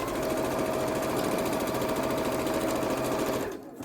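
A sewing machine stitching quilt block seams of half square triangle fabric, a loud close rapid whirring hum with fast needle chatter running steadily, then easing off and stopping near the end, with no talking.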